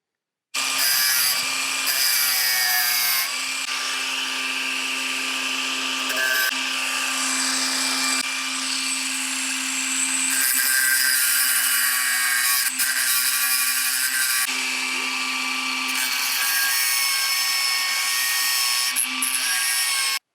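Power tool cutting a part for a BMW E39/E46 M5 steering wheel retrofit, a steady high-pitched whine up close that runs almost continuously for about twenty seconds with slight shifts in pitch.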